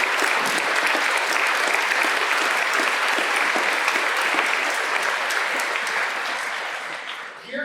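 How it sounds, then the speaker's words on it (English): Sustained, dense applause from a school audience at a Class Day 2024 ceremony, steady and full for several seconds before easing off near the end. "Let's give one more round of applause."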